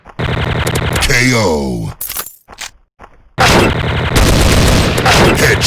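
TMP submachine gun fire in the shooter game Special Ops on the Ice Town map: loud rapid bursts of automatic fire with a sweeping effect sound, brief silent gaps, then another sustained burst, with a short announcer call.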